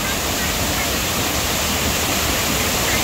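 Spray from Kuang Si waterfall near Luang Prabang, Laos, fills the air with a loud, constant hiss and roar of falling water, close by and unbroken throughout.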